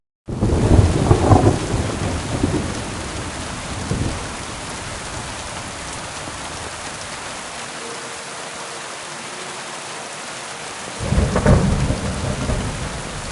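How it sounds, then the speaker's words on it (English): Thunderstorm in the video game Kingdom Come Deliverance 2, with steady rain hissing throughout and loud rolling thunder claps at the start, a smaller rumble midway, and another heavy clap near the end. "I love storms. Thunder and lightning, yeah!"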